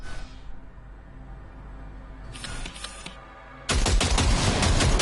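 Gunfire in the video game Cyberpunk, with a short burst of shots in the middle followed by a loud, sustained volley of rapid shots at the end, with no talking.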